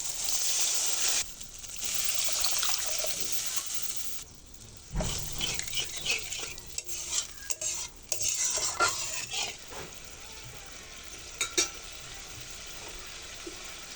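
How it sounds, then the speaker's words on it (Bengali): Frying spice paste for tilapia fish bhuna sizzles and hisses in a pan, with a sudden loud splash of water added and scraping stirs, then the sizzle settles under occasional utensil clinks. "মশলাটা খুব ভালো করে ভাজা হয়ে গেছে এবারে দিয়ে দেবো পরিমাণ মতো পানি"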